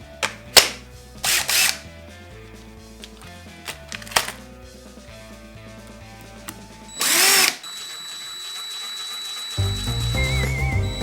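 A power drill bores a hole through the back of a handmade leather-craft multi-tool, in a few short loud bursts separated by pauses, followed by a grinder-like whine, with no speech.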